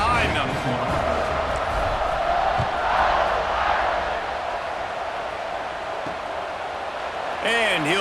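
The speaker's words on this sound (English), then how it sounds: "They're set to kick it off, and this crowd now ready to get behind them." Stadium crowd noise at kickoff in a college football video game with Navy playing, a steady roar that swells in the middle and sits under continuous commentary.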